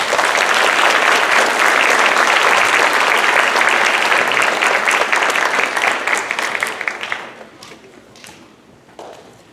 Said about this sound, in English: So let's give these kids a round of applause.